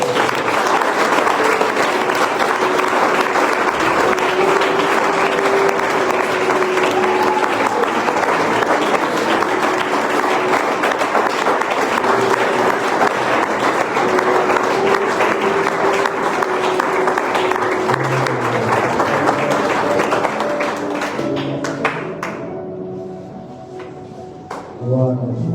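A church congregation applauds during a French-language worship service, sustained dense clapping with crowd noise that carries on for about twenty seconds before fading and thinning out.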